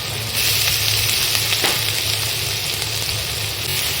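Ginger garlic paste and finely chopped onion frying in hot oil for a kheema samosa filling, giving a steady, close, broadband sizzle with one brief stir scrape, no talking.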